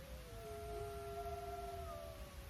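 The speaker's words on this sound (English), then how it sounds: "Can you hear those coyotes?" Several coyotes howling together at night in open country, long wavering overlapping tones that rise and slide across each other, steady and continuous over a low rumbling background with no talk.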